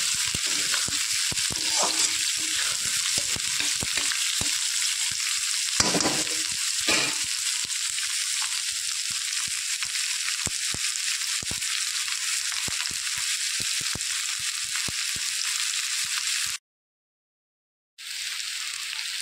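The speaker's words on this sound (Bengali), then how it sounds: "পেঁয়াজ আর আলু একসাথে ভেজে নেব" Onions and potatoes fry together in a pan for a tengra fish dish, making a dense, continuous sizzle with crackles and occasional stirring scrapes, cut off by a short silence near the end.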